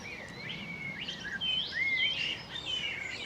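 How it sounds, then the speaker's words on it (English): Birdsong drifts across a Kent countryside walk between Teynham and Faversham near a rapeseed field: quiet, overlapping chirps and whistled phrases from several birds, steady and fairly distant over a soft ambient hush. "Plenty of bird song down here"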